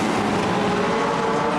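Legends race cars from a 1995 summer shootout roar in a steady, loud engine drone as several cars battle closely for third place, with no talk over it.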